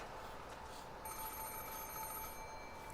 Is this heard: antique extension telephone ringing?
yes